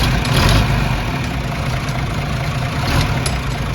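An old farm tractor engine on an organic dairy farm runs at a steady, loud idle with a low, even rumble throughout.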